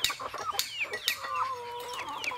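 Chickens on a rural farm clucking close by, a busy overlapping run of short squawks and warbling calls from several birds, fairly loud against faint background noise.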